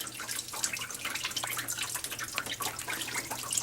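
Coolant from a removed water pump on a 2003 Suburban splashes and patters down steadily, a continuous trickling and dripping with no one speaking.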